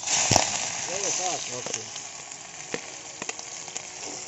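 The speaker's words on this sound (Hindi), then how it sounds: "प्याज को ब्राउन होने तक भून लेंगे" Onions sizzling in a hot pan while chicken is cooked, a steady bright frying hiss with small crackles throughout, a brief clatter near the start and a voice speaking over it early on.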